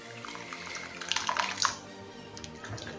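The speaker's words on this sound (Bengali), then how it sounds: "দেবো অল্প পরিমাণে গরম জল" Hot water is poured into a pan of dhaba-style egg tadka as it cooks, giving a brief watery splash and trickle in the middle over a steady low kitchen background.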